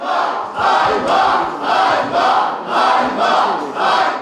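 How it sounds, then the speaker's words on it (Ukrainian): Crowd in a city council hall shouting a rhythmic two-part protest chant, loud and repeated about six times in steady pulses, voices massed together. "Представники громади присутні у залі на таке рішення відреагували криками Ганьба банду геть."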